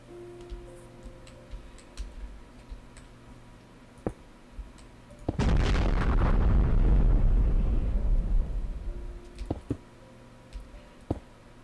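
A blocky Minecraft explosion goes off mid-game as a single loud broadband blast that rumbles and decays over a few seconds, with scattered soft clicks and game sounds before and after.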